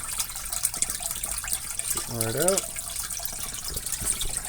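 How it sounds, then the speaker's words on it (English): Water from a Fluval 407 canister filter outflow splashing into a turtle tank like a small waterfall, a steady near trickle and splash under a person talking briefly. "She gets a little waterfall back, and the water flow is pretty nice."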